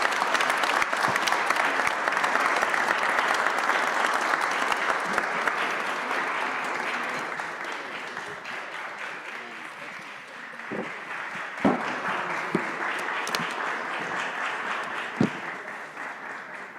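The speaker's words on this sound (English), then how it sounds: "she does deserve a big round of applause" A big round of applause from a housing conference audience in Poland, loud and dense at first, then thinning and softening, with a few scattered claps near the end.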